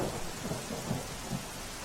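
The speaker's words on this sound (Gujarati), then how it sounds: "મહીસાગર જિલ્લામાં સાર્વત્રિક વરસાદ પડ્યો છે" Steady rain falls across Mahisagar district, a dense, even wash of noise with soft low rumbles beneath, continuous and without any voices.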